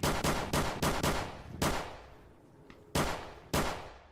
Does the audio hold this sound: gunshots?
yes